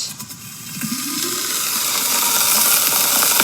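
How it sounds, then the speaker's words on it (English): Steam vents from a quick cooker holding a Sunday roast, a broad hiss that swells and stays loud and steady; no distinct crackling stands out. "you can see all the steam coming out, and you can hear the roast crackling"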